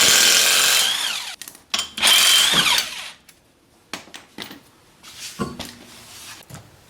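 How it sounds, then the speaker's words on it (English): Lug nuts on an EK-series Honda Civic wheel being spun off with a power tool and 19mm socket, loud whirring bursts in two long runs followed by shorter clicks and rattles, with no talking. "Using a 19mm socket, remove the 4 lug nuts securing the wheel."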